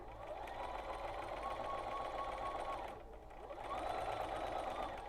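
A sewing machine stitches a quarter-inch seam on a quilted star table topper, its steady, close whirring running continuously, pausing briefly at the midpoint before resuming.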